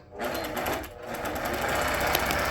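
An APQS longarm quilting machine stitches a pantograph pattern across a quilt, giving a steady, close, continuous whirring hum with fast rhythmic needle pulses, briefly easing before running on at full speed.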